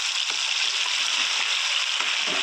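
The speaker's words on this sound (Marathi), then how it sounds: "लसूण कुटलेला त्याला टाकायचं." Crushed garlic drops into hot oil in a kadhai for a homemade pickle. A continuous, close, loud sizzle and crackle runs steadily throughout, with no voices.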